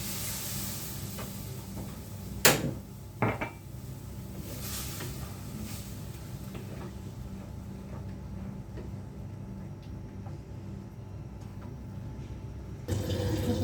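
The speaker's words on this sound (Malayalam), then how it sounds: "നമുക്ക് വെള്ളം ഒഴിച്ചു കൊടുക്കാം" A gushing splash of water poured into a fish curry pot over a low hiss, followed by quieter sizzling and light clinks, with another brief rush near the end.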